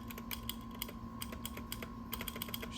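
Typing on a Redragon Fizz RGB mechanical keyboard with plastic housing, steady quick key clacks in an even flurry over a constant low hum, close and fairly quiet, with no talking.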